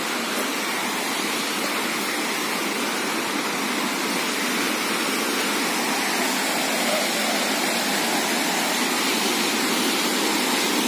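Waterfall in Similipal sanctuary pouring steadily, a dense, constant roar of rushing water that holds at an even, loud level throughout with no other sounds.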